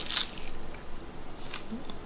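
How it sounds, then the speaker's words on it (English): A crunchy bite into jellyfish tentacles, with a sharp crisp snap near the start followed by faint chewing and small crackles, close up and quiet with no talk. "Do you hear that crunch?"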